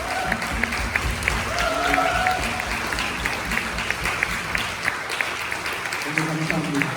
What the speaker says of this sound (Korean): 우리 한번 박수로 한번 격려하겠습니다